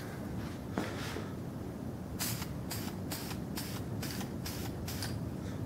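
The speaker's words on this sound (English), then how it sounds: "Let's go ahead and see what polyurethane can do. I just got some spray poly." Several short hissing bursts from a can of spray polyurethane coating an old egg beater, one early then a rapid series of quick sprays, over a quiet room hum.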